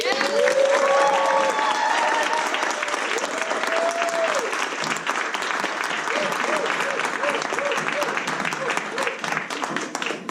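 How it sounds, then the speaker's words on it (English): Loud, dense applause from a theater audience welcoming an improv class onto the stage, steady throughout with cheering and voices mixed in. "Let's put our hands together to welcome the Joy of Improv class."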